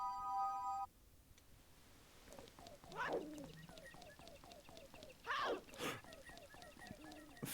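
A short electronic notification jingle chimes at the start of a Zelda Majora's Mask randomizer game, followed by chirpy in-game sound effects, all fairly faint.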